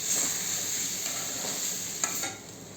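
Cabbage bhaji with crushed peanuts mixed in a pan, a steady hissing sizzle with soft scraping stir strokes and one brief clink near the end.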